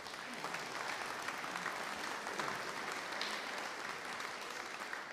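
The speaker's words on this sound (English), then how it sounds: "Perhaps a round of applause for them." A crowd at a jazz festival in Caerleon claps for the organisers and bar staff, a soft, distant ovation that stays even throughout and is heard from far back with no voices on top.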